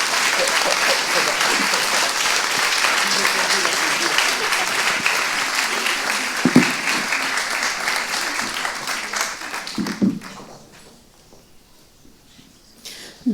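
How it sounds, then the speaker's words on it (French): An audience applauds two speakers after a talk on family peace, with a full, even round of clapping that fades out near the end and gives way to near silence. "Vous pouvez applaudir nos deux intervenants."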